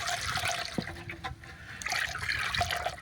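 Water for making palo starch is poured and strained through a cotton gamchha cloth, giving a close, continuous trickling and splashing with small drips and no talk.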